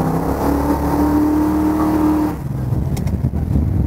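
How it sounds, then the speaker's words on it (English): A 1969 Dodge Charger's engine roars loudly at about half throttle as the tires spin, a sustained revving whine that drops off abruptly into a lower idling rumble near the end. "It'll spin the tires, no problem. That was about half throttle."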